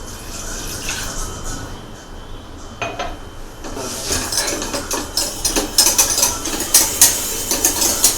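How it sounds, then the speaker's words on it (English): Béchamel sauce being stirred in a pan as milk goes in, with faint scraping and liquid stirring that grow busier and more clattery toward the end, no voices over it. "Keep stirring the sauce so that it can't stick to the surface."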